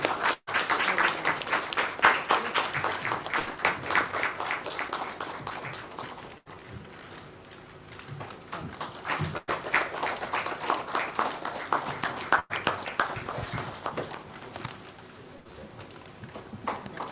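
Audience applause for the panelists at the e4m Realtime event, a dense, steady crowd clapping that carries on for the whole stretch with brief dips, sounding close and full with faint voices mixed in.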